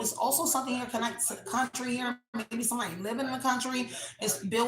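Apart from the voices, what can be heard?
No distinct noise like a dog, phone or traffic.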